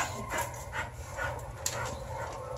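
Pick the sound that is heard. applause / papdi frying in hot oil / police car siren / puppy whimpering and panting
puppy whimpering and panting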